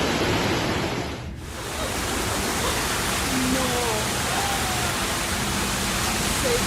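Floodwater rushes through the streets of Cantiano, Italy, a dense, continuous roar of fast-moving water, loud and unbroken after a brief dip near the start.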